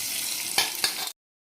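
Cumin, mustard seeds and a dried red chilli hit hot oil for tempering gongura chutney, a bright close sizzle with two quick crackling bursts before it cuts off abruptly.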